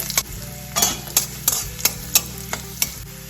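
Hot oil sizzles as cumin seeds fry, while a spoon scrapes and stirs the pan in a quick, regular rhythm of about ten strokes.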